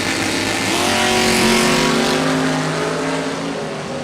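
An early-80s topless Corvette door car roars at drag-racing full throttle, a loud sustained engine wail holding steady for several seconds before easing slightly at the end.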